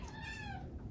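A barn cat meows in a clear, drawn-out call with a rising then falling pitch, close and distinct over a low background rumble.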